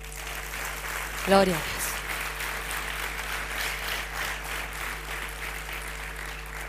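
An auditorium audience at a motivational talk applauds in a steady, sustained wash of clapping that fills the whole stretch, with a brief voice calling out near the start.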